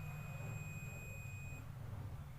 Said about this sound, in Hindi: आपको हल्का से एक बीप की आवाज़ नज़र आ रही हो